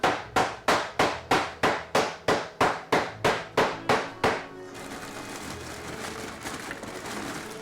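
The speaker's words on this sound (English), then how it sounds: "This is what shoemakers, this is the type of hammer they use." An old shoemaker's hammer, used in a candy kitchen, strikes thirteen times in a quick, steady rhythm, each blow sharp and close. The blows stop abruptly and give way to a continuous low room hiss.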